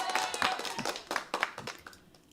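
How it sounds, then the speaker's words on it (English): A small group in an online revision class gives a brief round of applause, a handful of distinct, close claps that grow sparser and fade out within a couple of seconds. "Round of applause."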